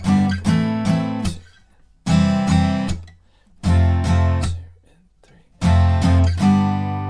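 Full bar chords of the chorus of a song strummed on an acoustic guitar in short bursts, each group of strums ringing briefly before a pause, close and fairly loud.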